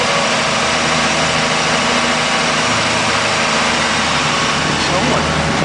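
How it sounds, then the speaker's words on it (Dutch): A car engine idles close by, a loud, steady, even rumble that holds without change for the whole stretch. "Wat een beest van een motor, hè?"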